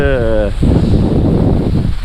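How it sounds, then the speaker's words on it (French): A gust of wind buffets the microphone while kitesurfing at sea, a loud rumbling roar sweeping in after a brief burst of speech and holding steady to the end. "là j'ai un petit coup de vent là"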